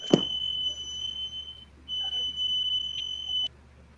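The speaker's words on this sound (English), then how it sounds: "the fire alarm" A smoke-type fire alarm beeps in a quiet indoor room, a steady high-pitched tone sounding from the start, breaking off briefly and then resuming until it stops near the end, with a sharp knock at the start.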